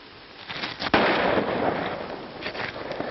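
A single loud gunshot in an Old West film scene, one sharp crack followed by a sustained rushing echo and a few scattered pops, with no talking.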